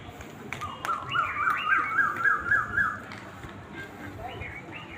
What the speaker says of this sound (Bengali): প্রচুর পরিমাণে পাখি ডাকে শুনতে পাচ্ছি আমরা